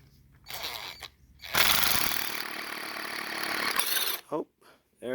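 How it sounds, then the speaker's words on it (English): An auger bit grinds through a metal Arrow shed door in two loud drilling bursts, the second running for about two and a half seconds, with short pauses between them. "Just need to get the auger all the way through."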